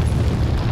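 A loud, deep explosion in the video game Resident Evil 4 rumbles heavily throughout, a sustained low boom that fills the moment without any talk over it.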